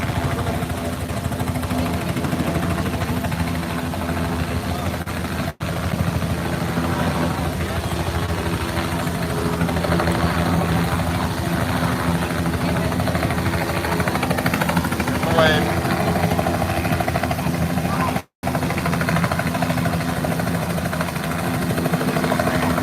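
Helicopter rotors churn with a steady, loud thrum at an international seaplane fly-in, the running engine holding constant throughout while a voice talks over it.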